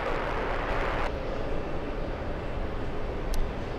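A Boeing 777 heavy airliner on its landing roll at JFK, a loud, broad, continuous engine roar, heard from nearby, that eases slightly after the first second, with no voices.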